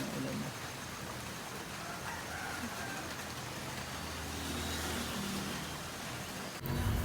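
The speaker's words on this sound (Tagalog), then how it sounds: "umuulan na" Steady hiss of rain falling outdoors during a running workout, constant and fairly loud, with traffic rumbling in the background and a brief shift near the end.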